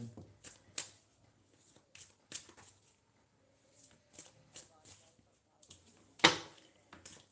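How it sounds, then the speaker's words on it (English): Tarot cards shuffled by hand in a series of quick riffling bursts and soft taps, close and fairly quiet, separated by brief pauses. "you saw me shuffling the cards, and this is the one that flew out"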